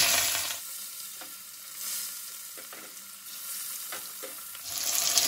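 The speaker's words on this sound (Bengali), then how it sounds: "এইভাবে আমি বাদ বাকি মাছগুলোকেও ভেজে তুলে নিই।" Pieces of katla fish fry in hot oil, a constant crackling sizzle at close range with a few soft scrapes of a spatula, louder bursts at the start and end.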